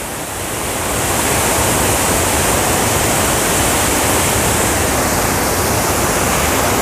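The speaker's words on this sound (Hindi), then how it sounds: "तो ये देखिए साईधारा वाटरफॉल" Saidhara Waterfall near Jharigaon, Umerkote, in Nabarangapur, Odisha, sends fast, swollen water crashing down in a steady, loud, close rush with no pauses or talk.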